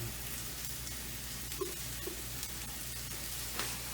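A pan of roasting potatoes is gently shaken, giving a quiet steady sizzle with a few soft scraping shuffles as the pieces shift, no talking.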